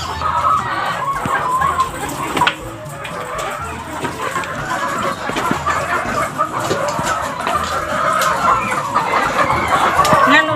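Backyard chickens cluck continuously at close range, with a rooster crowing amid the busy flock chatter and faint outdoor background noise.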